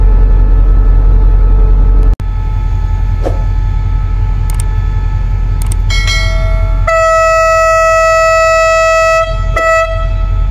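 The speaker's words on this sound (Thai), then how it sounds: "รถด่วนที่86ต้นทางจากสถานีนครศรีธรรมราชไปทางสถานีกรุงเทพอภิวัฒน์" Thai express train number 86 from Nakhon Si Thammarat to Bangkok Krung Thep Aphiwat stands at Thung Song Junction station, its locomotive idling loudly before sounding long, blaring multi-tone horn blasts.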